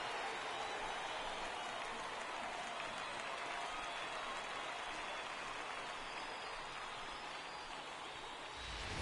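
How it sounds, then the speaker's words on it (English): A baseball home crowd roars and applauds in a broad, dense wash after a solo home run to right field in the bottom of the 8th, sustained and loud throughout with no break. "And the home crowd has really come to life here in the bottom of the 8th."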